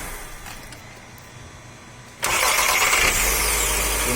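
A Fiat Palio starter motor cranks and the engine catches abruptly after a quiet stretch, then runs on with a loud, steady mid-pitched idle, close to the microphone and with no one speaking.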